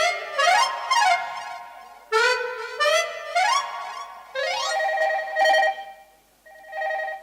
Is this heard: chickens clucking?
no